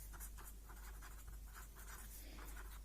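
Pen or marker writing on a board during a chemistry lecture, a steady scratchy rhythm of strokes over a constant low hum, fairly quiet and close, with no talking.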